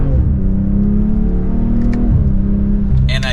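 A 2024 BMW M340i in sport mode gives a steady, close engine drone with a low exhaust rumble. It swells briefly near the end, then settles back toward an off-throttle grumble.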